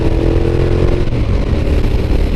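A Yamaha FJR motorcycle being ridden, its engine droning loud and close with steady mid-range rumble and wind, no talking.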